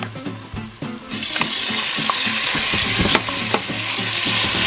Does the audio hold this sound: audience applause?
no